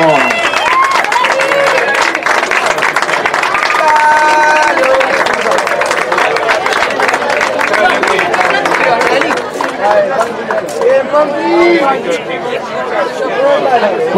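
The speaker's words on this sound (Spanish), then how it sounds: "Fuerte el aplauso" Crowd applause at a 2016 year-end party, steady clapping mixed with loud chatter and voices throughout, dense and continuous with background music tones.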